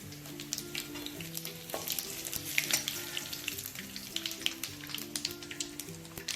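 Curry leaves and a bay leaf crackle and sizzle in hot oil, a busy close spattering of pops and hiss, with soft music playing underneath.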